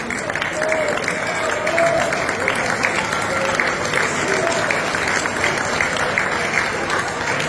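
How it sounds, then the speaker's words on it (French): Hearty applause from an audience at a gathering honouring a man, steady clapping for several seconds with scattered voices and cheers woven in. "Encore un petit peu d'applaudissements pour ce monsieur"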